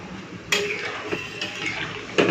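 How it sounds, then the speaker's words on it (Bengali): Rice and dal for khichuri are stirred in a cooking pot, with a few sharp clinks and scrapes of the utensil against the metal over a low background hiss. "চাল আর ডালটা দিয়েছি তো একটুখানি নেড়ে দিলাম"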